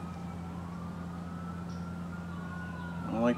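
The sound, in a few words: emergency vehicle sirens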